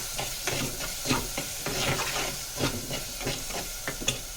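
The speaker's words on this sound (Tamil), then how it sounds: "இப்போ நம்ம 2 மீடியம் சைஸ் தக்காளி சேர்த்துக்கலாம். தக்காளி நல்லா வதங்கணும்." Two medium tomatoes sautéing in a pan for Tirunelveli-style kara kuzhambu, a tamarind curry, giving a steady close sizzle and hiss with light stirring scrapes throughout.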